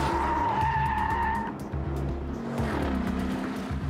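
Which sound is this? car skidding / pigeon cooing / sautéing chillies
car skidding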